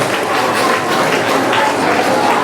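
Audience applause at a school anti-vaping assembly, a dense steady wash of many hands clapping at once, loud and continuous for the whole stretch with no talk over it.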